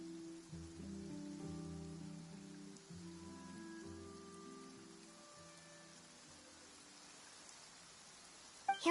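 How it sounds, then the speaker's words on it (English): Rain falls steadily in Genshin Impact, a soft, constant hiss of drops, while several low sustained tones from music or ambience play beneath it, and a brief louder burst comes at the very end. "It's raining."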